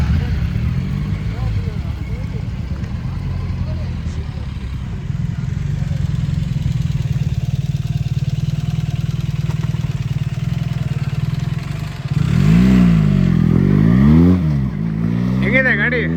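A BMW 1300 GS motorcycle engine runs with a steady low rumble close by, while someone talks over it throughout.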